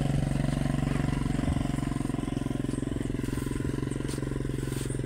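A motorcycle engine runs steadily and close while a learner rides, a continuous throbbing drone with a fast, even pulse throughout.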